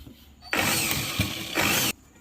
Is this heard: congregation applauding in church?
no